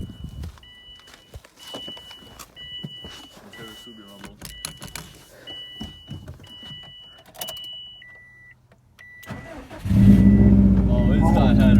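A Subaru WRX STI with headers and 57,000 miles cranks and fires near the end, settling into a loud, close idle after a stretch of quiet clicks, chimes and someone talking.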